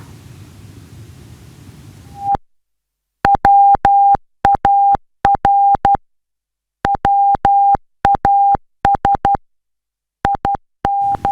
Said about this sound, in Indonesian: Kedutaan Besar Iran di Indonesia memposting sebuah pesan kode Morse di media sosial mereka.